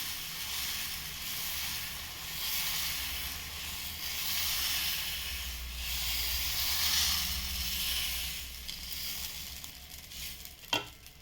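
Green gram dosa (pesarattu) batter sizzles steadily on a hot non-stick pan, a continuous broadband frying hiss with slow swells, ending in a brief sharp clink near the close.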